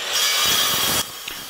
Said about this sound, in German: Zuerst säge ich mir alle Teile grob zurecht.